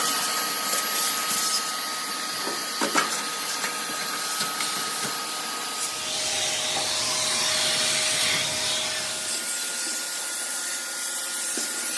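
A vacuum hose roars steadily at close range, sucking lint out of a Maytag high-efficiency dryer, its pitch and airflow shifting as the nozzle moves, with a few brief clunks early on.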